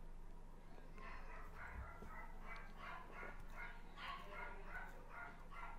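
A dog barks in a steady run of about a dozen evenly spaced barks. It sounds moderately distant, over a low, constant background hum.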